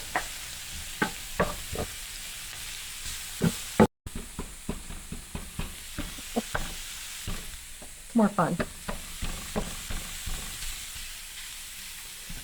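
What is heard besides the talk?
breaking up food with mix and chop in sizzling pan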